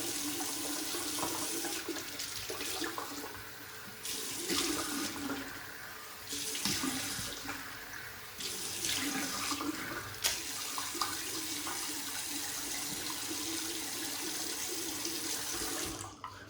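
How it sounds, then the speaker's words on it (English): Tap water runs steadily into a sink as a face is rinsed after a wet shave, the broadband rush rising and falling in bursts as hands dip in and out of the flow, close and continuous. "Let's rinse off the face and we'll get into post here."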